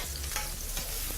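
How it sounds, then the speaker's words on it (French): Onions and garlic sweating in a pan, a brief, quiet, even sizzle with faint stirring, heard alone. "Ensuite, nos oignons sont en train de suer. Et revenir de l'ail."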